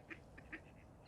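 Ducks quack on a fishing lake, a few short, fairly quiet calls spaced apart over a steady outdoor background hiss.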